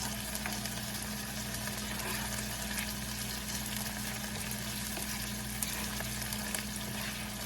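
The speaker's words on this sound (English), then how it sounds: "We're going to let those saute for a couple more minutes." Peppers sauteing in a hot pan, a steady, even sizzle and crackle that goes on without a break at moderate volume.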